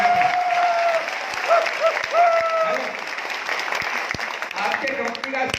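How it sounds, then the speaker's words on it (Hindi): A live-speech audience claps hard and continuously throughout, a dense, steady wash of applause with a voice speaking over it. "थोड़ी और तेज तालियां बजा सकते हैं आप।"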